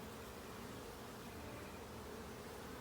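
Honeybees drone in a dense, even buzz around a small hive during an inspection, a faint steady hum with no voices.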